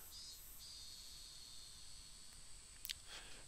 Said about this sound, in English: Will the cicadas stop beeping? But it's called When the Cicadas Cry. It's the evening cicadas, not the robust cicadas.